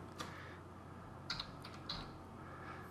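A few quiet keystrokes on a computer keyboard as a stamp catalogue number is entered, close by with soft clicks and no speech.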